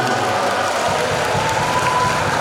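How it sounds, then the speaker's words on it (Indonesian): Applause from a school audience of children at a character-building assembly, a dense, even roar of many hands clapping, loud and sustained without a break. "Tepuk tangan untuk kita semua"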